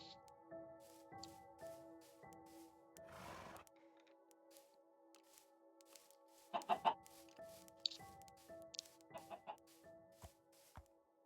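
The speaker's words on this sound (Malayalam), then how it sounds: "ഈ അഴുക്ക കോഴിയെ" A chicken clucking in short, uneven bursts, fairly close, with gaps of quiet between calls and a steady tonal hum in the background.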